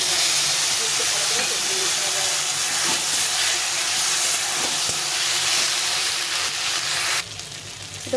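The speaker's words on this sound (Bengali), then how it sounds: "আমার তরকারিটা কষানো হয়ে গেছে, এখন মশলাটা দিয়ে দেবো।" Ground spice paste hitting hot fried curry in a pan gives a steady, loud sizzling hiss that runs for about seven seconds, then drops away abruptly.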